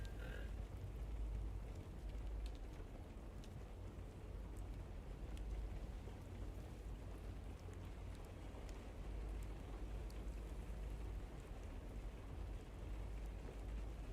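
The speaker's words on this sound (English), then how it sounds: "I can still hear rain." Steady rain hissing in a storm in the video game No Man's Sky, a continuous wash of dense patter with a low rumbling undertone, even in level throughout.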